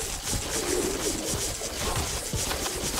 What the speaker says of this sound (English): So many birds, by the way,